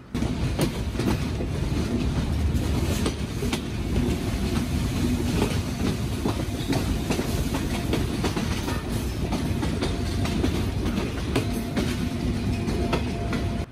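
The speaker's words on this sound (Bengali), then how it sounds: "ট্রেন ছোটার সাথে সাথে দুর্বার গতিতে ধুলোময় হচ্ছে ট্রেন" The Sundarban Express from Chuadanga to Dhaka runs at speed, a steady loud rumble with rapid clickety-clack of wheels over rail joints, continuous and close as if heard from inside a non-AC carriage, with no talk.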